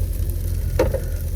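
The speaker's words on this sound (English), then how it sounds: "Now I'm just going to mix this all in." Food sizzles steadily in a hot pan over direct heat as it is stirred, with a short scraping stir-and-sizzle burst midway over a constant frying hiss.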